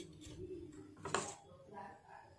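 Spoon stirring patishapta batter in a bowl in a home kitchen, giving faint scraping and clinking strokes with one sharper knock, under quiet speech.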